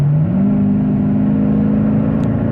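Nissan/Infiniti engine revving as the automatic rev matching blips the throttle on a downshift, a loud steady drone that steps up in pitch and holds there, heard from inside the car.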